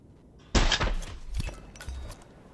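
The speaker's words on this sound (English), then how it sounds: "line up our shot, and shoot him in the head" A single loud, sharp sniper rifle shot cracks out in the stealth video game Hitman 2, followed by brief thuds and a fading echo against faint background ambience.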